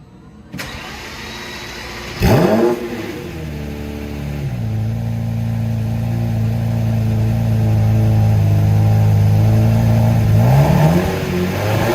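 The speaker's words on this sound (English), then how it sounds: "So if I give it a little rev, you see it goes up and down" A 2008 Lamborghini Reventon engine fires up close by with a loud bark, settles into a steady, strong idle, then climbs in a brief rev near the end, with no talking.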